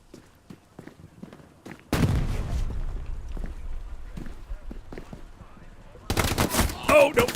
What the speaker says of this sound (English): Oh, that's MG34 actually, not MG42.